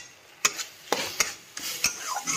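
A spoon scrapes and stirs masala in a frying pan in a few quick, sharp strokes about every half second, with a soft sizzle underneath, close and fairly quiet, no talking.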